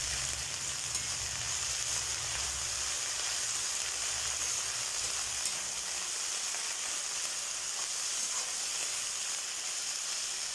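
Mint leaves sautéing in a pan for chutney make a steady, even sizzling hiss, moderately loud and close, continuing without pause, with no voices.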